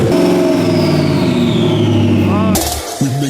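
A turbocharged Ford Crown Victoria engine revs loud and close, its droning pitch sliding gradually lower before cutting off abruptly, then a short burst of other noise follows.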